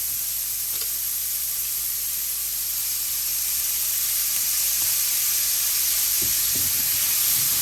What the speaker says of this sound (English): Take your onions, add it to the pan. Mix it up. If you need, add a little bit more olive oil.